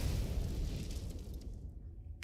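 An explosion in the action shooter game The First Descendant: a loud, deep, booming blast with a rumbling low-end tail that slowly fades and thins over about two seconds.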